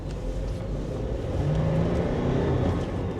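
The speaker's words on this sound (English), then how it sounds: "if I give it just a little bit of throttle, it's downshifting" A Toyota 4Runner fitted with an Ultimate 9 EVC throttle controller accelerates and downshifts, its engine droning steadily from inside the cabin with a gentle rise in revs and road rumble, no talking.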